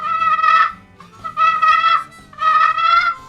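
Three soft, nasal yelps from a turkey call imitate a hen, each a short clear burst separated by brief pauses, close and alone.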